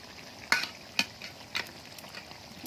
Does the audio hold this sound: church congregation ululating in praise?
no